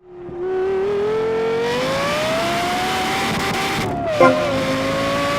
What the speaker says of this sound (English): Let's go and swap in the V10 in our Toyota Supra.